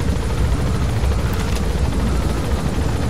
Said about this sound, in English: Could shoot some sheep from the helicopter, I guess, if you want.